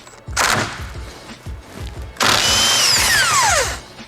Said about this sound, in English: now that we have the airbag off, we're gonna use our impact